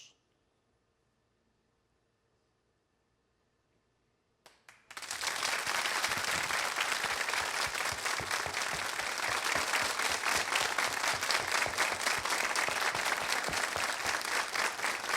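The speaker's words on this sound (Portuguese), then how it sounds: "Esses aplausos" A large audience breaks into sustained applause in tribute to a singer, starting abruptly after a few seconds of near silence and then continuing as a dense, loud, even roar of clapping.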